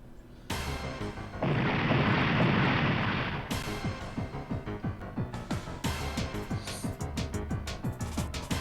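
Explosion in the mecha strategy game Super Robot Wars Alpha, a loud roaring blast lasting about two seconds, followed by a rapid series of rattling impacts and bursts.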